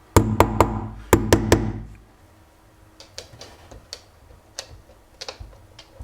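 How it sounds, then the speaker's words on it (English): A hammer taps to mark a 3D printer enclosure door and wall, a close series of sharp knocks in two quick groups of three, then lighter, scattered taps that grow fainter. "I'm just gonna use a hammer to mark."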